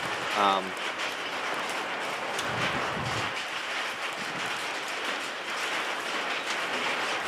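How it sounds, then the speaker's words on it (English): Hail falls outdoors as a dense, steady hiss and patter, mixed with wind buffeting the microphone, continuous throughout with a brief voice near the start. "it is really actually starting to hail right now."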